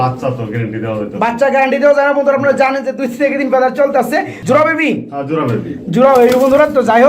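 Large Sirazi fancy pigeons coo in soft, repeated throaty calls at a pigeon sale, heard close under near-continuous talking.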